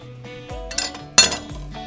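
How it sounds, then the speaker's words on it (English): A knife is picked out from among kitchen utensils while baking bread at home, giving a few short metallic clinks and rattles close by against a quiet room. "So let me get a knife"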